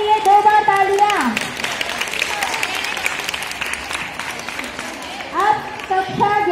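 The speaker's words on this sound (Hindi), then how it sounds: "दोनों के लिए 2 बार तालियां" A crowd at a school prize-giving ceremony breaks into loud, dense applause that fills the middle of the moment, with voices speaking over the clapping at its start and end.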